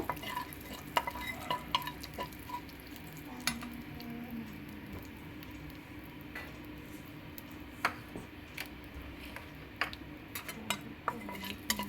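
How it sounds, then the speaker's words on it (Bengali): Panch phoron spices fry in oil in a pan, with a soft continuous sizzle and frequent sharp metal spatula taps and scrapes against the pan, close and fairly quiet. "তো 5 ফোড়নটা আমি একটু ভেজে নেব।"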